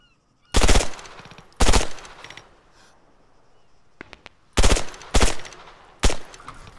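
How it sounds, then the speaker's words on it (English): Gunfire in the military shooter game ArmA 3: loud, sharp bursts of automatic fire come in separate volleys with quiet gaps, plus a quick cluster of fainter distant cracks partway through. "I cannot tell where those shots are coming from."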